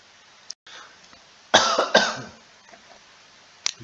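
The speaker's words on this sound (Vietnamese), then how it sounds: "Bị ho rồi mọi người ơi." A person coughs twice close to the microphone, two loud, harsh bursts in quick succession, with faint room noise and a small click before and after.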